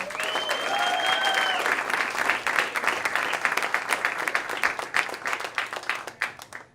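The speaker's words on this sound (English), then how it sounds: "please give it up for your Mahoning County Chairman, Chris Anderson." A crowd at a Mahoning County, Ohio political rally for a governor's race breaks into loud, sustained applause and clapping that thins out toward the end, with a brief tonal sound near the start.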